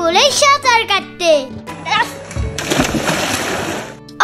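People splash and play in a resort swimming pool. A burst of sloshing water is heard amid excited children's voices and nearby chatter.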